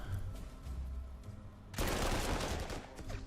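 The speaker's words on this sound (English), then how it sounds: "That's some heavy artillery" Heavy artillery fire in the WWII strategy game Panzer Corps 2, Spanish Civil War campaign: a quiet rumble gives way to a sudden dense, roaring barrage of blasts that continues loudly to the end.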